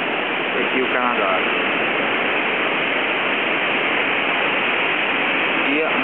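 Niagara Falls gives off a constant, dense roar of rushing water, loud and unbroken, with faint voices briefly audible beneath it.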